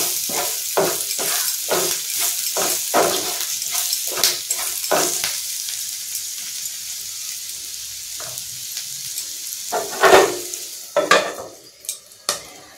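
Ivy gourd frying in a pan with coriander powder and turmeric, stirred with a spoon: a steady sizzle under repeated scraping strokes for about five seconds, then quieter frying with a few louder clatters near the end.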